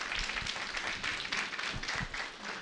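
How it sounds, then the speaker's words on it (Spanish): A church congregation at a Sunday service in Aymara claps in a soft, steady wash of applause, faint and distant, with no clear talk over it. "Una vez más, fuertes aplausos, por favor."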